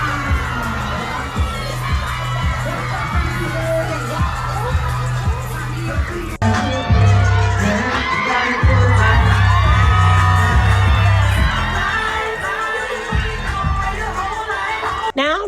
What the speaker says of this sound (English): cheering crowd.